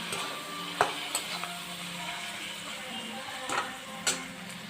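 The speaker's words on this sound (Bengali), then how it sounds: "এবার দিয়ে আমি এটাকে ভাজতে থাকবো লঙ্কা গুঁড়ো হলুদ গুঁড়ো সাদার মতো লবণ আর টমেটো দিয়ে দিয়েছি" Chili powder, turmeric, salt and tomato fry in oil in a pan with marinated chicken to follow, giving a steady close sizzle with a few sharp scrapes of a stirring spoon and no talking.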